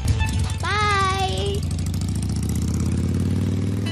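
A motorbike engine runs at a steady idle throughout, a close, constant low hum with a brief high tonal sound near the start, as a couple set off on the bike.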